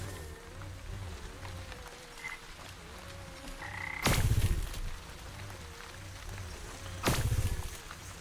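Frogs croak steadily in the video game Wytchwood, a continuous chorus of low, throaty calls, broken twice by loud bursts of game sound; no talking.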